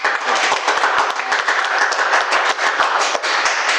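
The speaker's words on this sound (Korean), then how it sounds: "박수." A small audience applauds at a humanities talk session, a close, loud and steady burst of many hands clapping with individual sharp claps audible throughout, no talk over it.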